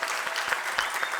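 An audience at an urban planning panel debate applauds the panelists, a dense burst of close clapping throughout.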